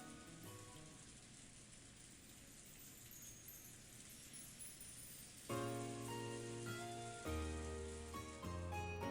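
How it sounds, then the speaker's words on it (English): Strong wind and rain in the Umineko When They Cry visual novel, a steady, moderate rain patter and hiss that continues as piano-like music notes enter partway through. "The wind and rain were strong"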